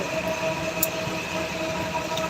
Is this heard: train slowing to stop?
yes